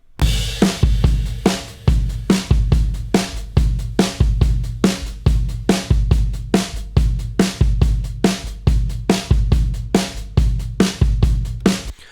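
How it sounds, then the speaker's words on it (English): A recorded drum kit plays a steady groove of punchy kick and snare hits with toms and overhead cymbals, loud and close with no voices. "And I'll tell you what, the drums sound absolutely amazing."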